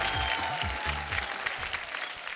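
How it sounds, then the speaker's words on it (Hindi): Studio audience applause welcoming the judges on a Bhojpuri TV reality show, a continuous wash of clapping under background music with a low rhythmic beat. "तो जोरदार तालियों से स्वागत करी हमनी के जजेस लोग के"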